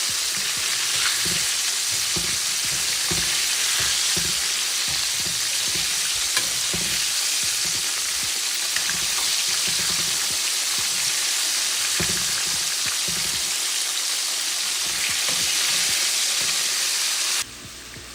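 Chicken pieces for sesame chicken deep frying in hot oil in a pot on a stovetop, a steady dense sizzle and crackle running throughout, ending abruptly near the close.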